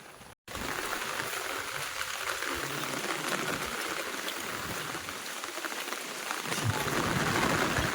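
Heavy rain pouring steadily and loudly, a dense unbroken hiss of drops on surfaces that continues without a break after a brief cut at the start.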